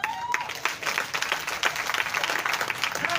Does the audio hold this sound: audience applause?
yes